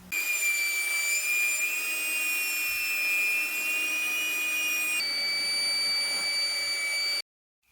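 A cordless Flex CI 11 18.0 battery air compressor gives a steady, high-pitched motorized whine for several seconds, shifting pitch slightly midway, then cuts off abruptly.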